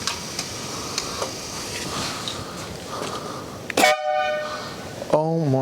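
Denali SoundBomb compressor horn mounted on a motorbike, very loud: after background room noise with faint ticks, two blaring tonal horn blasts ring out near and harsh, the first around the middle and the second at the end.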